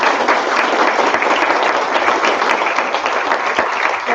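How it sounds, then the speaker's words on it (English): A graduation ceremony crowd gives steady, dense applause for the graduating students, a loud, even wash of many clapping hands that holds from start to finish with no talk. "Big applause for all the students."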